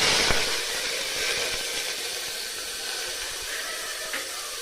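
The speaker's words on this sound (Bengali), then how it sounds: "পেঁয়াজটা ভেজে নিচ্ছি" Onion fries in a little hot oil for chicken soup, giving a steady, soft sizzling hiss that carries on evenly without any voices.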